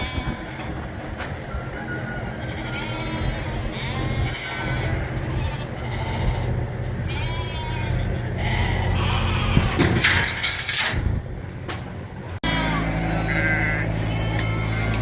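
Ewes and lambs bleating repeatedly in a pen during worming and vaccinating, with overlapping calls near and far over a steady engine-like rumble and occasional clanks, and some talk in the background.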